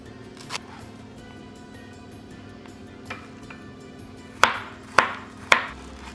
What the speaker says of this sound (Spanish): Lo primero que vamos a hacer será picar finamente la cebolla y el ajo.